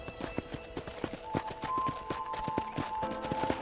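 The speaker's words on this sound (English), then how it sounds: "let's see if you can still ride a horse" Horse hooves in the game Red Dead Redemption clip-clop at an even walking rhythm on a ranch, a clear run of close taps with a faint sustained tone behind.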